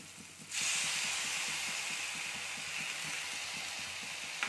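Grated potato and a few green chilies hit hot oil in a frying pan, setting off a loud, steady sizzling hiss that swells suddenly and then holds evenly, with soft clinks of the pan beneath.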